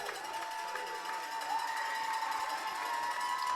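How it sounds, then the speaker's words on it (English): Danville football crowd at a Friday night high school game, broad, fairly distant cheering and clapping rising slightly partway through, with a steady hum beneath. "As this crowd for Danville starts to come to life."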